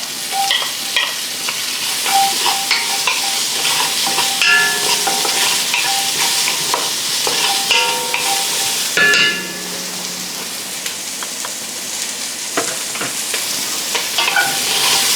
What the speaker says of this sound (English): So we're still on high heat, so you need to keep on stirring this.